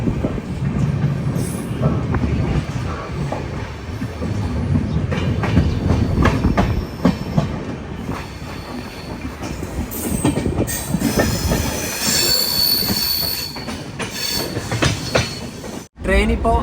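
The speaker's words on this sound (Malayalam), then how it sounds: "ട്രെയിൻ ഇപ്പോൾ ന്യൂ അലിപുർദ്വാർ റെയിൽവേ സ്റ്റേഷനിലെത്തിയേ" A train pulls into New Alipurduar station in West Bengal, its wheels squealing and clattering over the rails with steady rumbling carriage noise, fairly loud and close throughout.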